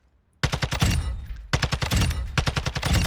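Two bursts of rapid automatic weapon fire from the video game Warzone 2, loud and close, separated by a short pause, with no talking.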